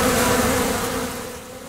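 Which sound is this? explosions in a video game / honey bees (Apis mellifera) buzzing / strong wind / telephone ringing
honey bees (Apis mellifera) buzzing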